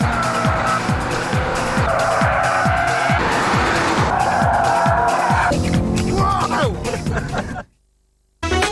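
Family cars racing against the clock around Silverstone circuit, engines revving loudly with repeated gear-change sweeps and screeching tyres, ending in an abrupt cut to silence.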